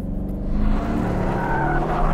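An Aston Martin Vantage on track, exhaust set to loud, sliding a few degrees with its tires squealing over the steady roar of the engine; loud and close, no talk.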